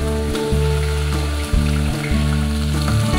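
Garlic and two green chillies sizzle loudly in a hot pan for Kerala rasam, a steady close frying hiss with a few brief dips as the pan is stirred.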